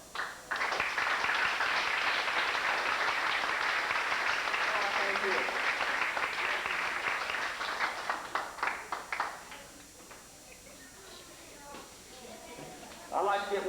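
Applause at a 1985 swim team awards banquet, a full room clapping loudly and steadily for about nine seconds for the team mothers, then thinning to scattered claps with a new burst rising at the end.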